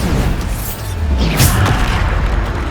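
A Bombarda blasting spell goes off in the Hogwarts Legacy video game, a dull low boom swelling under dense battle noise with a brighter burst near the middle, amid continuous combat effects.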